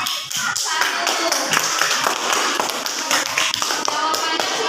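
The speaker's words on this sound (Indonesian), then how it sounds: "Tepuk tangan dulu untuk kelompok" Schoolchildren in a classroom applaud a group, a steady dense crackle of many small hands clapping close by, with some shuffling and little talk.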